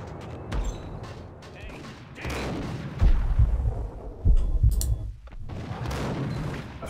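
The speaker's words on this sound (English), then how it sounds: "Let me try the sniper rifle." Sniper rifle shots ring out in the video game Max Payne, a few sharp booming reports in the second half over game noise, with a voice speaking at times.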